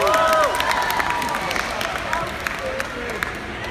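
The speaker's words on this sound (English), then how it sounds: "Let's give them a round of applause." An audience applauds with dense, steady clapping and crowd noise over the full stretch, with some voices mixed in.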